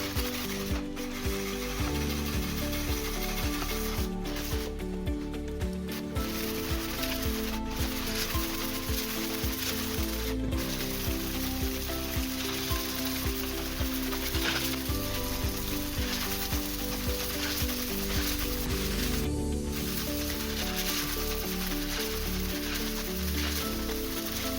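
Steady back-and-forth scraping of 320-grit wet-dry paper glued to a hardwood block, worked close up over a balsa RC Lear Fan model wing sealed with sanding sealer, continuing without a break.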